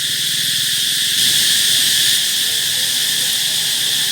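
A dense, steady, loud chorus of cicadas in the Cambodian countryside keeps up a continuous high shrill drone, with no voices.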